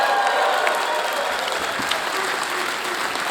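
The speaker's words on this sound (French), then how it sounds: "Tout le monde en salle, on les applaudit!" A studio audience at a Gong Show taping in St-Eustache applauds in a continuous, full wash of clapping that holds steady from start to finish.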